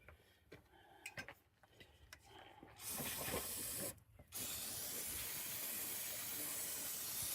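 Brake cleaner sprays in long loud hissing bursts onto the rear brake caliper, pads and rotor of a Hyundai Elantra GT, after a few clanks and clicks, with one brief pause between blasts.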